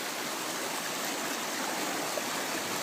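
Mountain stream rushing with white water behind mountain laurels in winter, a steady loud broadband roar of churning water, continuous and unbroken, with no voices.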